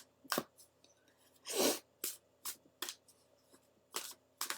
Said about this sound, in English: I'll just start shuffling